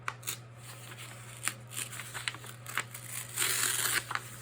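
Paper pages being torn out of an old book, a run of quick rips and crinkles with sharp snaps, rising into a longer, louder tear near the end, close and without talk over a steady low hum.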